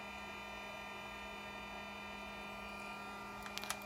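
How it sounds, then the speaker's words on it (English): A steady electrical hum from the throttle actuator of a Mercedes S320 holds constant throughout, with a few faint clicks near the end. "You can see it's making this humming sound."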